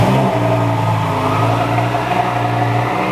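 McLaren Senna hypercar engine, rated around 1,000 horsepower on pump gas, holding a loud, close, steady idle-to-rev drone with a deep rumbling tone throughout, no voices heard.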